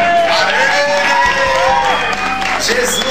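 Applause and cheering from a group at a church retreat, a steady dense wash of clapping mixed with excited voices and whoops that stays loud and close throughout.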